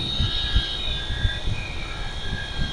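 A 1000 W DC motor running free at about 4015 rpm gives a steady, sustained whirring hum with a faint rhythmic pulsing, close and fairly loud, with no voices over it.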